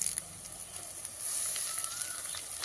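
Garlic, green chilies and curry leaves frying in oil in a pan as the base for a crab roast, giving a steady close sizzle with a few faint stirring scrapes.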